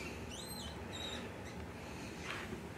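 High, thin squeaks from a mouse, a few short chirping calls early on over a steady low background hum, nearby and fairly faint.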